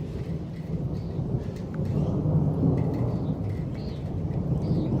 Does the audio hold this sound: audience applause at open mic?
no